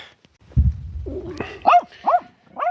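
A dog barks and yelps several times in quick succession, close by, with a low thump at the start.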